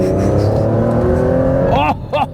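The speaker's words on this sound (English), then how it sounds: "a twin turbocharged V12 up front" A twin-turbocharged V12 with a manual gearbox revs hard up front, a loud, rising engine note held for nearly two seconds before breaking off into short bursts as the throttle lifts.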